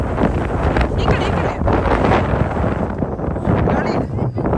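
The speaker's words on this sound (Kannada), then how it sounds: "ಗಾಳಿ ಇದೆ." Wind blowing across frozen Sprague Lake in Rocky Mountain National Park, a steady roaring rush buffeting close against the microphone, with gusts swelling and easing throughout.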